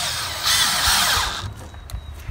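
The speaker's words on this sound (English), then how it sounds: "I'll just put a screw in wherever I want to" A power drill whirs as it drives a screw into an exterior window frame, a close, loud whine that stops after about a second and a half, leaving faint knocks and rustling with no talking.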